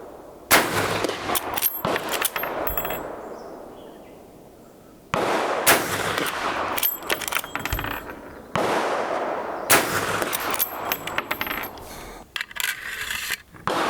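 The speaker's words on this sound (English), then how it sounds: "So send another round home, load up the sights" A Henry lever-action rifle in .45-70 Government with a brass octagonal barrel, its lever cycled to chamber a round: sharp metallic clacks and bangs in several loud bursts, close up, with no talking.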